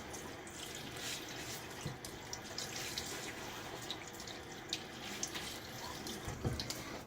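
Cold hard water runs from a sink tap in a steady close splashing stream, with irregular splashes as a face is rinsed under it during a wet shave.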